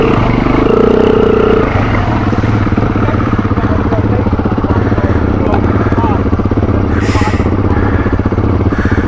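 A BMW trail motorcycle rides through muddy ruts at a green-lane skills day, its loud engine running in a steady, close, buzzing drone throughout, with a brief revving swell near the start and people talking over it.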